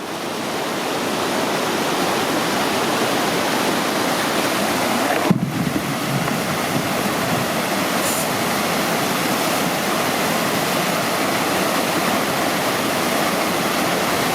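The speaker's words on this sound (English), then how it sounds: "We've made it to the first rapid where there's a trolley track to help us portage around this 10-meter portage" Whitewater rapid on the Bloodvein River at the Manitoba-Ontario border, a steady, loud broadband roar of churning water that runs unbroken throughout with some wind buffeting, and no voices.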